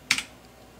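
Two quick clicks from keystrokes on an RK61 mechanical keyboard, close up and alone, followed by quiet.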